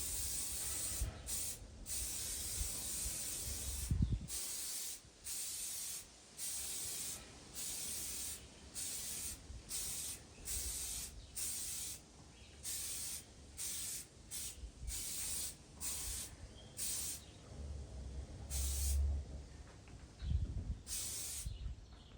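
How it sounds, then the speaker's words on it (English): Repeated short bursts of spray paint hissing onto a rusted metal patio chair during restoration, steady rhythmic blasts with brief pauses between, close and fairly loud, no talking. "spray goes on the other chair"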